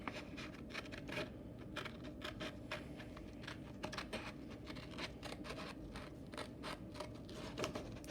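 Scissors cut steadily around a paper shape during an elementary classroom lesson, a rapid series of soft close snips and scratchy rustles, quiet and continuous.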